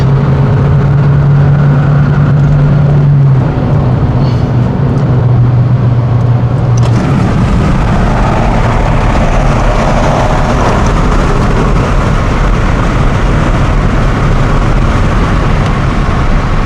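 A car driven hard on a race track, its engine loud and close, revving and pulling continuously as it shifts pitch through gear changes, with no talk over it.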